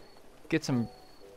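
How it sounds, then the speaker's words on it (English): Ducks in Hateno Village in a Zelda video game give a short pair of cooing, quacking calls, close and fairly loud against a quiet background. "There's some ducks."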